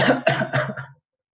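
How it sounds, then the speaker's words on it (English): Three quick, close coughs in a row, sharp and breathy, then silence. "Cough, cough."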